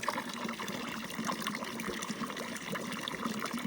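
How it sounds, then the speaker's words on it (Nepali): Water of the Mai Khola river flowing steadily near a trekking trail between Sikkim and Nepal, a continuous close rushing wash without pauses and no voices. "यहाँ तल खोलाको रहेछ पानी।"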